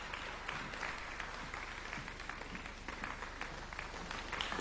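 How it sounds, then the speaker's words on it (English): A crowd applauding at the Africa Urban Forum at KICC, Nairobi, dense steady clapping that continues throughout at moderate volume. "let's put another warm clap for His Excellency"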